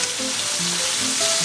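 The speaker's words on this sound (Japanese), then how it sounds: "一旦揚げていきます" Deep-sea fish deep-frying in olive oil, a dense continuous sizzle and crackle that stays steady and close throughout a brief stretch with no talking.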